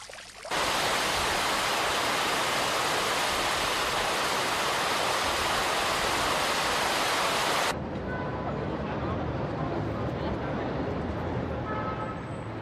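A public neighbourhood fountain in Valencia, Spain, gives a loud, steady rush of splashing water, nearby and unbroken, then drops to a softer, more distant wash of water.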